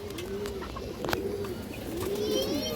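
A red-eyed female pigeon coos in low, rolling phrases, one at the start, another near the middle and a longer one toward the end, close and clear over a steady background hum with faint chirps.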